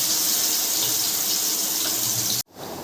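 Chicken 65 pieces being fried in hot oil give a continuous close sizzling hiss that cuts off abruptly near the end, leaving quieter background noise.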